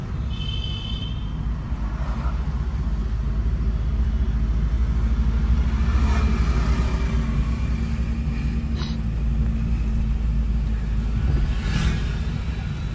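A car rolls slowly along a road during a first-day driving lesson, with a steady low engine drone and road rumble from inside the cabin and a faint click partway through.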